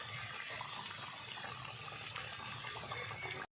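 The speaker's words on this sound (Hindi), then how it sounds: "ऑयल गर्म हो चुका है, अब इसमें पीसीस डालेंगे।" Chicken burger pieces in hot oil make a steady, loud, even sizzle and hiss with no break, then it cuts off briefly at the very end.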